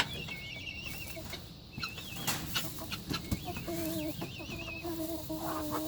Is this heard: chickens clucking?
yes